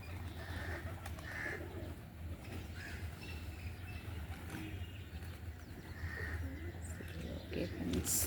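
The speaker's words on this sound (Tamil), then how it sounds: "அது பக்கத்தில் ஒரு புறா" A pigeon coos softly at a rooftop flower garden, low faint calls repeating amid outdoor background noise, with occasional quiet voices nearby.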